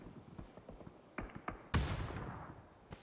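Grenades detonating in PUBG during an EU scrim match: a loud broadband blast bursts out mid-clip and decays over a second, preceded by scattered sharp gunshot cracks and followed by another short crack, with no one talking.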